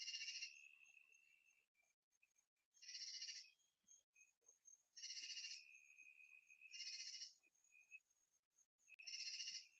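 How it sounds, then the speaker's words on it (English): Cicadas singing outdoors in long buzzing bursts of about a second, repeating at a regular interval with quiet gaps between, faint and somewhat distant. "the cicadas sing 24 hours a day"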